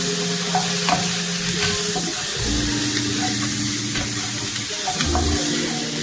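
Peppers and onions frying in a pan, a continuous close sizzle with intermittent stirring and scraping, plus a low steady hum underneath.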